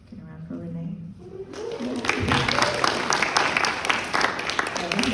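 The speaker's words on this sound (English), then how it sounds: "This is also a good time for raucous applause." Applause from the audience at a college arts symposium, breaking out after a short stretch of speech and swelling into dense, sustained clapping that continues to the end.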